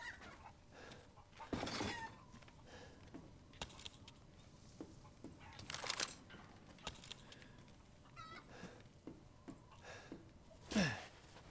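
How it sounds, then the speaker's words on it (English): Chicken clucking and squawking in the survival horror game Resident Evil Village, several short bursts scattered across the stretch over a steady low background, with one sharp loud squawk near the end. "Be still, chicken."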